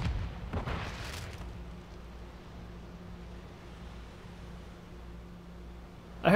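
A grenade explosion in Call of Duty: Modern Warfare II: a heavy boom bursts out at the start and rumbles away into a low, steady game-ambience drone, with a sharp click at the very end.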